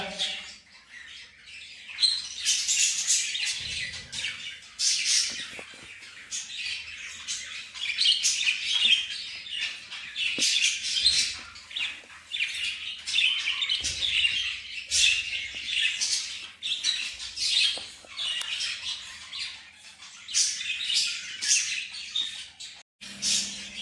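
Continuous busy chirping and tweeting of many small pet birds close by, with occasional squawks and soft rustling throughout.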